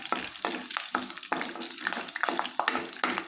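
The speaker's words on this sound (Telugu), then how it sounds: "ఇప్పుడు అదే పాన్లో వన్ టేబుల్ స్పూన్ ఆయిల్ వేసుకొని పోపు దినుసులు వేసుకుంటున్నానండి జీలకర్ర ఆవాలు మినపప్పు శనగపప్పు కరివేపాకు ఎండుమిరపకాయ వీటిని బాగా వేయించుకోవాలి" A tablespoon of oil in a pan fries a tempering of cumin, mustard seeds, urad dal, chana dal, curry leaves and dry red chillies, crackling and spitting in rapid, irregular bursts over a constant sizzle, close and fairly loud with no speech.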